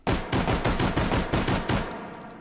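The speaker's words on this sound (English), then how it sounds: "let's do a 10-round recoil test with the Mauser," A Mauser C96 pistol fires about ten shots in rapid succession in the H3VR virtual reality game. The cracks are loud, close and evenly spaced, each followed by a short ringing tail.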